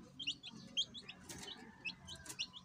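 Red junglefowl chicks peep inside a cage in repeated short, high chirps, several close together, over a low background murmur.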